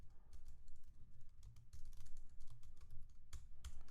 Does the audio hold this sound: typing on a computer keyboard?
yes